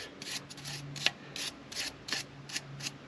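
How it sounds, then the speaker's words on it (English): A wire brush scrubs the brake caliper bracket perch on a 2016 Ford F150 during a front brake job, giving repeated rough rasping strokes in a steady back-and-forth rhythm, close and moderately loud with no talking. "take your wire brush, and just clean up the little perch area"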